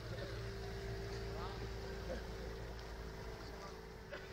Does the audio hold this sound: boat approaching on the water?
yes